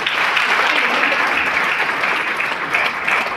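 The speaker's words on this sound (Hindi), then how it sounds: "प्लीज एक बार आप तालियां बजाएं" Steady, loud applause from a crowd fills the whole moment, dense clapping with no break and no talking over it.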